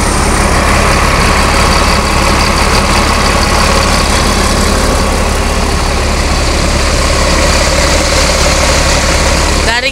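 A Mercedes bus engine idles loud and close, a heavy, steady low rumble with a raspy edge that holds unchanged for about ten seconds.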